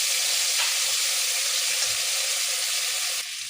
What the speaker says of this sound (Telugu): చూడండి, అల్లం వెల్లుల్లి పేస్ట్ అనేది బాగా వేగాలి.